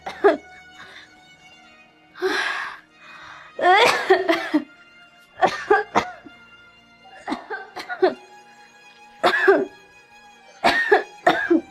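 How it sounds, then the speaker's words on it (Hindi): A person in a Haryanvi film drama coughs repeatedly with a constricted, short-of-breath chest, giving about ten harsh bursts spaced irregularly with quiet gaps between them, close and clear. "मेरे सांस सिकुड़ रही, खांसी की वजह।"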